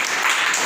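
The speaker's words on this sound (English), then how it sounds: "Clap for her." Students in a classroom applaud together, a dense burst of hand clapping lasting under a second and heard alone.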